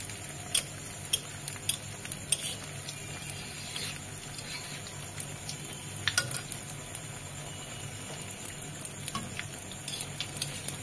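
Palm-pulp malpua batter frying in hot oil gives a steady low sizzle, broken by small crackling pops and faint stirring clicks, with no voices.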